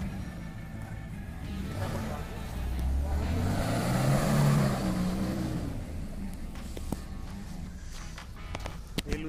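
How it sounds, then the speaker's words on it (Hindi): An off-road 4x4 comes up a forest hill track, its engine rising to a loud, close swell mid-way and then easing off, with voices talking over it throughout. "ये दूसरी गाड़ी आ रही है"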